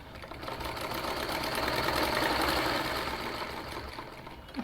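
A sewing machine runs steadily, stitching the side seams of a kurti, a continuous close whirring hum that swells slightly mid-run and stops with a small clunk at the end.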